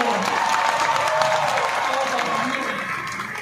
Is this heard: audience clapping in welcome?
yes